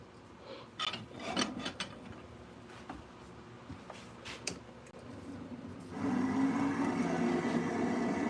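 Wood bushings being turned on a wood lathe, with rasping, scraping cuts and intermittent knocks, then a steadier, louder humming rub near the end. There is no talk.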